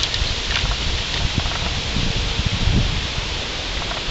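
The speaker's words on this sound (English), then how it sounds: "Getting kind of windy." Steady broadband rustle of leaves stirred by wind, continuous and moderately loud with small gusty swells, no voices.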